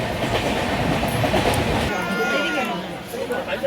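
A train rumbles loudly along the tracks with steady clattering of wheels, heard from inside the carriage with faint voices underneath, running nonstop past Bardhaman toward Durgapur in West Bengal, India.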